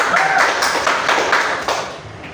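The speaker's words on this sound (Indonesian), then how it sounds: "Tepuk tangan dulu pada Elsie." Children in a classroom clap their hands together, a brief burst of quick, rhythmic claps close to the microphone with no talking.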